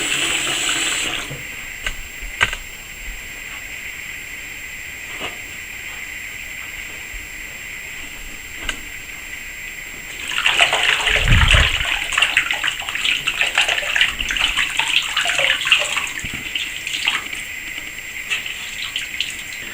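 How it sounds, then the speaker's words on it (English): Doll clothes are washed under running water. The first half holds faint handling noise, then a tap opens and water gushes loudly and steadily, splashing into a basin until the end. "Now for the clothes, I just need to dip it in water."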